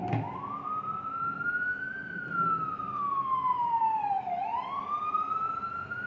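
An ambulance siren wails in a long rising and falling sweep, then dips and climbs again as it passes along a street corner, fairly clear over low background rumble with no talking.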